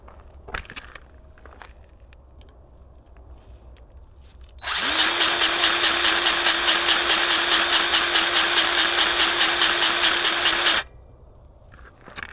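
A Bauer 20V battery grease gun pumps grease on a Jeep's grease points and bearing buddies. After a few light clicks and handling noises, its motor whines loudly and steadily with a rapid pulsing for about six seconds, then cuts off abruptly.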